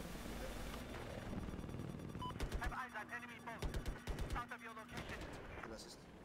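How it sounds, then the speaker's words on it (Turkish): An anti-aircraft gun fires in Battlefield 4 during an attack-helicopter fight at Lancang Dam: rapid bursts of sharp shots over a droning engine hum. Players talk in between. "O bize şey atan anti-air."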